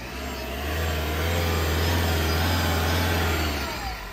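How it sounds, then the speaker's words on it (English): A Toyota Prius revs up in a street-race setting, a steady loud engine drone with strong low rumble that swells over a few seconds and holds before easing off. "Give me a rev in this Prius."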